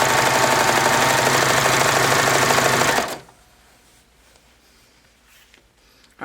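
A serger stitches fabric strips together in a loud, rapid mechanical whir for about three seconds, then stops abruptly, leaving faint room noise.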